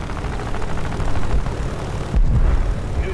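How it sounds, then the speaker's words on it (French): A propeller airplane roars past overhead in the video game War Thunder, a loud droning rumble with a sharp burst of noise partway through. "Je crois qu'il y a un avion ennemi qui est passé au-dessus de moi."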